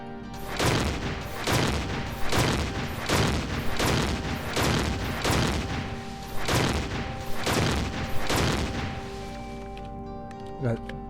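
Heavy weapon fire at a turret in the space survival game Empyrion: Galactic Survival, about ten evenly spaced booming shots, each with a long rumbling tail, steady and loud.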